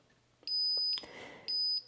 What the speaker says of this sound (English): as you get close, it starts to beep you into level or plumb